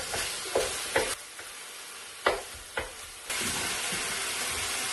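Chicken and vegetables sizzle in an electric wok, a steady hiss broken by several sharp spatula scrapes and tosses, then the frying settles back into an even, close sizzle.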